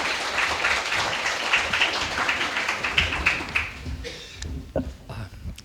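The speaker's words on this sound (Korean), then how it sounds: "최 교수님을 큰 박수로 환영해 주시기 바랍니다." An audience claps in welcome for a lecturer at an academic forum, a dense burst of applause that thins and fades over several seconds, with a few scattered claps at the end.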